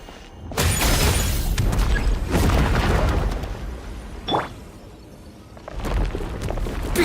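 Breakable wall smashed in Genshin Impact, with loud booming crashes and crumbling debris over several seconds, a brief sharp hit in the middle, and another rumbling burst at the end.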